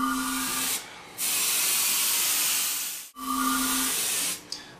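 Airbrush spraying Createx paint along the carved edge of a coffee table, two long steady hissing bursts close by, separated by a short pause, with no talking.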